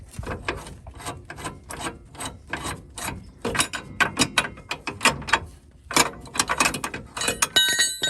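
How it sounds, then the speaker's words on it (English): A coil spring compressor tool is loosened on a Ford Ranger front suspension, giving rapid, loud ratcheting clicks in uneven bursts with short pauses, close up and with no talk. "So I loosened up coil spring tool."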